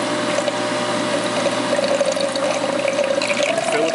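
Replenishment pump on a G&J multi-line film processor emptying its developer tanks, a steady running hum with a sustained mid tone and continuous liquid flow and trickling throughout.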